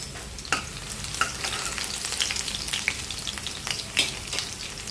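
Garlic cloves fry in oil in a pan, a steady close sizzle broken by scattered sharp crackles and pops, with occasional stirring sounds and no talk.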